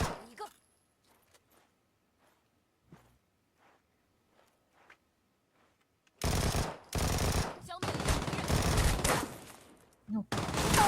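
Video game gunfire: after a mostly quiet stretch with faint, sparse sounds, loud sustained bursts of rapid automatic fire erupt and continue in close succession, briefly pausing before another burst.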